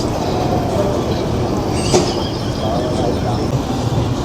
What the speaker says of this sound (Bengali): ট্রেন মোটামুটি যথাসময় কিন্তু ছেড়ে দিল ব্যান্ডেল থেকে